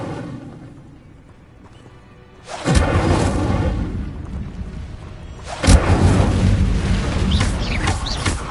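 A fiery Incendio spell blast in the Hogwarts Legacy video game: two loud whooshing bursts, the second hitting sharply, each trailing into a rumbling roar.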